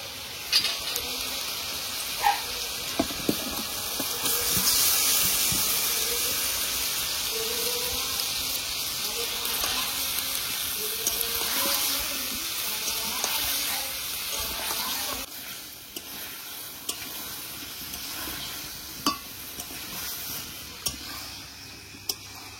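Chicken pieces sizzle and hiss steadily in hot onion paste in a home kitchen pan, with occasional clinks of a utensil against the pot.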